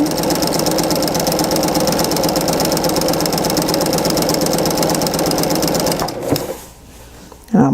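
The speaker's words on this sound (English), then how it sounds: "And then I'm sewing and sewing and sewing and sewing." A sewing machine stitches two strips of fabric together for a quilting strip unit, a steady, rapid, loud mechanical whirr that runs for about six seconds, then stops abruptly into near quiet.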